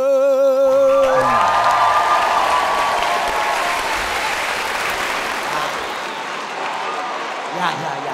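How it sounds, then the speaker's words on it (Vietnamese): Dense audience applause with whoops and cheers fills the space, played from a sound engineer's laptop on a Vietnamese TV show, bursting in loud after a brief voice and sustaining steadily, thinning slightly toward the end. "những tràng vỗ tay điên cuồng, những tràng vỗ tay hừng hực đó, dạ, xuất phát từ cái máy laptop của công bấm âm thanh"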